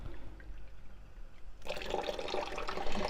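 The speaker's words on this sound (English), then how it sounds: "I'm going to add some water." Water is poured onto a hot Blackstone griddle while stir fry chicken with Michigan honey cooks, a sudden loud hissing rush starting midway and continuing steadily to the end, with no talking.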